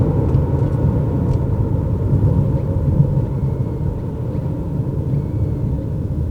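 A 2021 Mercedes GLA250 small SUV slowing to a stop gives a loud, steady low road rumble inside the cabin, with no distinct changes and no talking.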